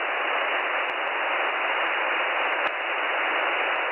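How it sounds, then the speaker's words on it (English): Continuous hiss of radio static before a number station broadcast, steady and even throughout, with a few faint clicks and no voices. "Seconds before the broadcast, you will hear only static."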